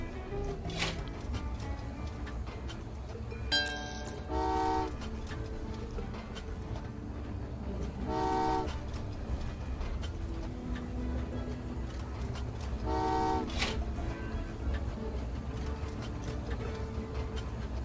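Trains run in the video game Train Valley 2 with a steady patter of mechanical clicking and ticking, broken every few seconds by short bright chime tones.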